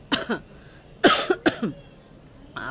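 A close, loud run of coughs in two quick clusters, a couple of harsh hacks followed by several more, then one last cough.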